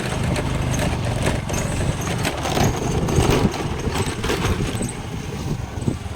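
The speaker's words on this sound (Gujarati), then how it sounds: "નકર આ ગાડી ખખડે તો એનો જ અવાજ વધારે આવે." Honda Activa scooter engine running on the way to a shop, a steady rumbling idle-like drone with some rattling, close and continuous throughout without talk.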